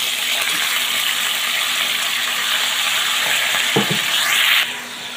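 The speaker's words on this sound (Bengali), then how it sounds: "তো এখন আমি তেলের উপর কিছুক্ষণ এগুলাকে একটু ভেজে নেব" Chicken skin frying in oil in a pan, a loud continuous sizzle with a brief clatter of stirring toward the end before the hiss drops slightly.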